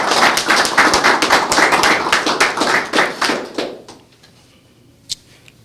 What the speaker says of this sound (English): Let's give Paul and this warden staff a round of applause